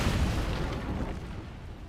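An Incendio fire spell cast in a Hogwarts video game bursts with a loud, booming whoosh of flame that fades over about two seconds.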